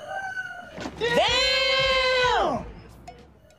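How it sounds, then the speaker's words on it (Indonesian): A single long, loud rooster crow rings out close by, rising, holding steady for over a second, then falling away. "suara ayam"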